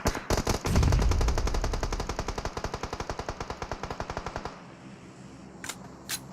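Long-range rapid automatic gunfire in PUBG Mobile during a battle royale scrim, a dense burst of sharp repeated shots slowing into an evenly spaced stream that stops, followed by two isolated distant cracks.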